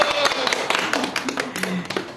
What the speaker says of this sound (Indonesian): Tepuk tangan untuk Kak Nah ini.